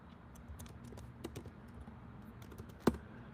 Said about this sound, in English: Type in the wallet name. Type in where you're going.